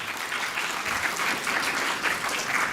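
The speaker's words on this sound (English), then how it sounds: "So give a round of applause to yourself." An audience at an actuarial summit claps steadily, with continuous dense applause at moderate loudness and no talking.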